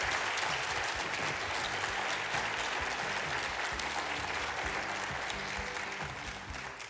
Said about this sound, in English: How about a big round of applause for Sheriff Paul Penzone?